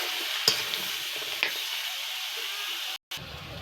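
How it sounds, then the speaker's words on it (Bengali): Turmeric powder is stirred into a prawn and pumpkin curry in a sizzling pan, a steady frying hiss broken by a few scraping stir strokes, close and fairly loud with no talking. "এরপর দিয়ে দেব হলুদ গুঁড়ো, এরপর ভালো করে নাড়াচাড়া করব।"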